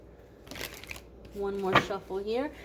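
Quick riffling tarot-card shuffle sounds come in short bursts, close by, while a voice briefly speaks over them.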